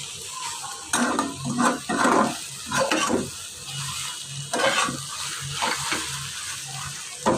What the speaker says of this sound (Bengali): বেশি না নাড়লে ডিম তো নিচে ধরে যাবে